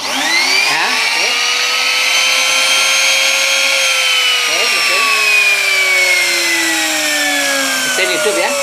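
A small engine starts and runs with a steady, whining mechanical tone that slowly drifts lower in pitch, loud and close, continuing without a break for several seconds.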